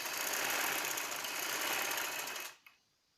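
An electric sewing machine runs in one continuous whirring burst as it stitches the fabric sleeves of a baby's summer frock, then stops abruptly with a small click near the end.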